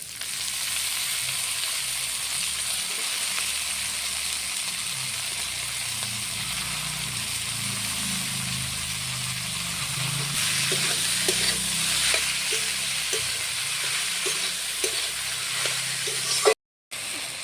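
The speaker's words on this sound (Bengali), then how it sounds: "মশলাটা ভালো করে ভেজে নেওয়ার পর বাঁধাকপিটা দিয়ে দিতে হবে" Spiced cabbage frying in a pan for a Bengali cabbage and crab dish, with a steady loud sizzle and hiss throughout and occasional stirring scrapes and clinks of a spatula.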